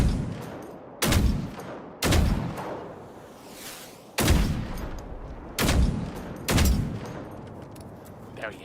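Heavy rifle fire in Generation Zero: six loud, booming single shots spaced about a second or more apart, each with a short echoing tail.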